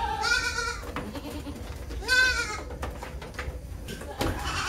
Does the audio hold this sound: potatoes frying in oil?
no